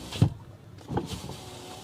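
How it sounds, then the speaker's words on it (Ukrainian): A Dodge Grand Caravan minivan's power window in the sliding side door runs on its electric motor, with two close, distinct whirring bursts separated by a short pause, the second longer and trailing off. "де ви бачили мінівен, в якому повноцінно з кнопки відкриваються вікна в бокових дверях"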